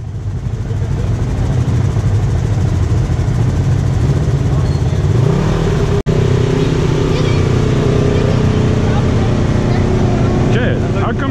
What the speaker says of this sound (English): Chad, stick it in neutral and rev it